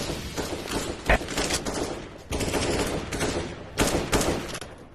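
Sustained automatic gunfire sprays through a Counter-Strike round in a competitive match, dense rapid bursts running nearly continuously with brief louder cracks and a short lull midway.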